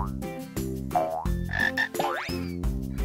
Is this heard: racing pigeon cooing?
no